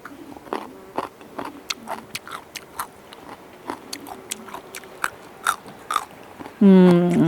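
Someone bites and chews spicy, crunchy Shaanbei-style pickled white radish strips, producing steady, close, crisp crunches in a quick rhythm, with a short voice at the end.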